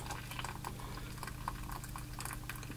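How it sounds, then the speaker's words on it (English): Freshly boiled water pours into a jug during a test of a Bosch Neff Siemens NTC thermistor thermostat, giving a steady close bubbling, trickling wash with small splashy patters and no talk. "So if I just put the water in, hopefully it won't steam the camera lens up"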